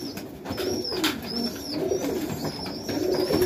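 Pigeons in a loft, among them a crested highflyer, give repeated soft cooing calls close by, with faint higher chirps over a steady murmur of the flock.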